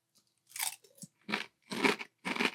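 Five close, crisp crunches of Friends vanilla bean latte wheat and corn flake cereal being chewed, bursts separated by short silences, quiet and alone.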